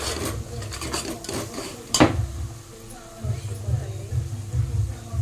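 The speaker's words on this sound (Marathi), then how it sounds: "व्यवस्थित मिश्रण एकत्रित करून घ्यायचं आहे" A spoon stirs and scrapes through a pot of dal khichdi after Maggi magic masala is added, with steady close rubbing strokes and one sharp clink against the metal pot, over a faint low hum.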